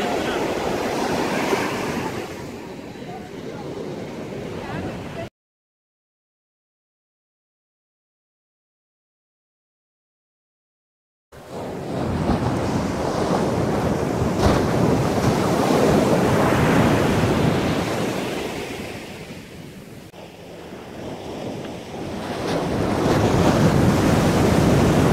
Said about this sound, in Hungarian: Elég jó itt a hullámverésbe lebegni.